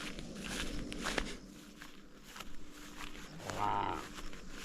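A cow on a farm moves about with shuffling steps and rustling close by, and a brief low moo near the end, with no voices.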